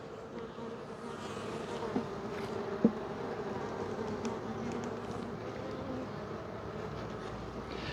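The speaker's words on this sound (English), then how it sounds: "these big noisy bees that are flying around us right here are drones" Big drone honeybees flying close around people in a bee yard, a steady layered buzzing hum that fills the whole stretch without letup, with a couple of brief louder bumps and no talk.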